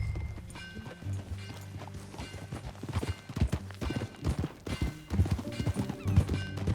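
Horse hooves clip-clopping at a steady walking rhythm in Red Dead Redemption 2, close and distinct over a low ambient game music bed, with a brief whinny and no speech.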